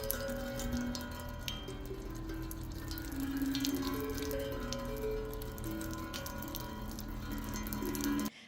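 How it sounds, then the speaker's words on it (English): A rain drum played by falling water gives a soft, continuous patter of small droplets, with light ticking clicks scattered over a faint ringing tonal hum, close and unbroken. "as water falls onto them, it creates kind of like a really pretty rain noise"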